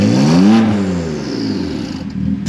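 BMW M2 Competition engine with straight-piped exhaust revs up hard and close, loud and raspy, then its pitch falls away and it settles into a rumbling idle, with a brief blip near the end.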